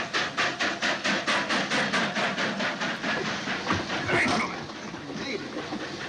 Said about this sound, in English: There's definitely no stopping that train.